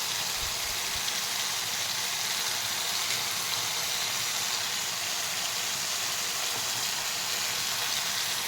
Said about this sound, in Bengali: এবার একটু হিং দিয়ে দিচ্ছি।